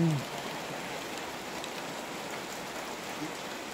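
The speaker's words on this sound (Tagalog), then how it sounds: "lakas ng ulan" Heavy rain pours down steadily during a nighttime power outage, a dense continuous hiss at moderate level, with a brief faint voice at the very start.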